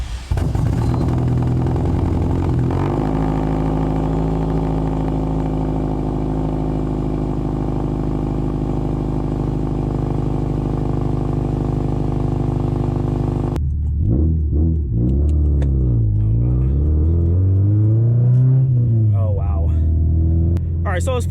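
A big-turbo Subaru STI fitted with a new loud exhaust, a Nameless mid-pipe and CNT 4-inch mufflers, fires up and settles into a deep, steady rumbling idle, then gets a few throaty revs that rise and fall.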